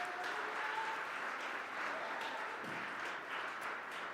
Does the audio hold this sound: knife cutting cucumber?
no